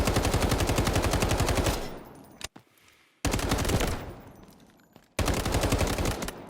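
An automatic weapon fires in the video game Delta Force, with three long, rapid bursts of loud, crisp shots separated by short pauses.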